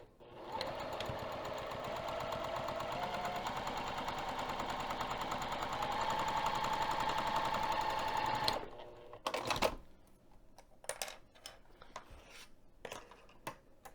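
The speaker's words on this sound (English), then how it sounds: "I'm just going to flip this over so that I can stitch just the end portion down" A sewing machine runs a steady fast stitch along the end of an insulated bag for about eight seconds, close and loud, then stops, followed by a few scattered handling clicks and rustles.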